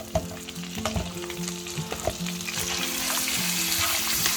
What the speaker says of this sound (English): Now bang in the onions.